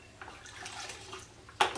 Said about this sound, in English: Once I've thoroughly rinsed that, I wring out and mop several times to try and